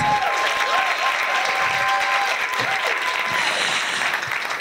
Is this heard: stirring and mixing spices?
no